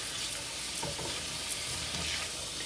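Onions and a mix of peppers sizzle steadily in a pan for a Cuban paella sofrito, a continuous soft frying hiss with faint stirring scrapes, no talking.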